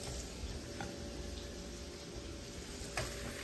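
Garlic frying in hot oil in a pan, a steady close crackling sizzle that holds at an even level throughout, with a couple of faint clicks and no talking.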